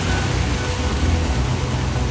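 Heavy rain pours down over a flooded street in a dense, continuous hiss, loud and steady without a break.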